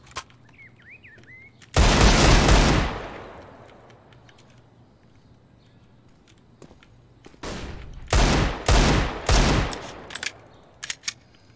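Bursts of automatic gunfire in the game CS:GO crack out in a long opening volley, then after a pause several rapid clustered volleys follow, loud and close, with no talk over them.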